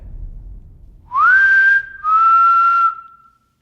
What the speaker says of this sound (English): That was probably one of my best whistles too.